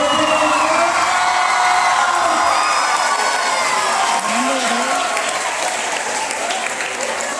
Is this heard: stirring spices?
no